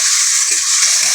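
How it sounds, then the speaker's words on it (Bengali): Potatoes are stirred in a pan with a little salted water, giving a short burst of bright sizzling and frying hiss with faint scraping underneath. "একটু নেড়ে দেবো।"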